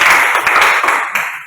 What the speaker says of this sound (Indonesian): Silakan berikan aplaus dulu